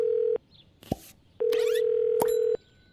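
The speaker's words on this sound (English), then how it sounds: "I'm going to dial the phone number and see if we get her on the phone." A telephone in the Paralives video game plays a steady dial tone in two sustained stretches, split by brief clicks and a short dialing beep, heard close and clear.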